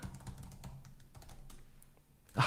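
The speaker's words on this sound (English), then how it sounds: "Let me look at the keyboard while I type my password." Password being typed on a computer keyboard during a coding session, a run of quick, close, soft key clicks in an uneven rhythm, ending with a louder keystroke like a press of the Enter key.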